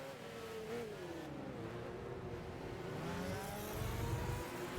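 An Opel Astra driving in Gran Turismo 5 gives a steady engine drone whose pitch rises and falls with the revs, continuous and fairly close, with no talk over it.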